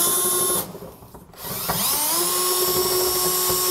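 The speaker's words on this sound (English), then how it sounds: "We do need to drill through that as well, so make sure you have a long enough drill bit" A loud power drill whines at high speed boring through a steel cross member under a 2022 Ram 2500 truck bed, briefly slowing and dropping off before spinning back up to a steady, near scream.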